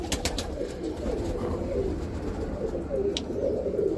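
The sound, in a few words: roller pigeons cooing in the loft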